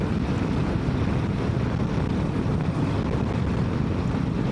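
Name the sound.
strong wind blowing against a motorcycle rider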